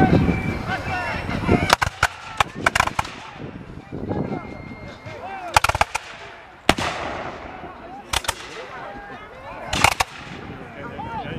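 Musket volleys crack at a Battle of Stoney Creek re-enactment, sharp single and clustered shots spaced irregularly across the scene, some near and loud, with crowd noise and voices faintly in between.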